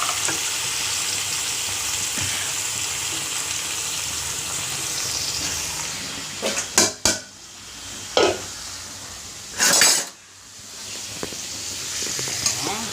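Food frying in a pan gives a steady close sizzling hiss throughout, with a few louder scraping bursts from stirring toward the end.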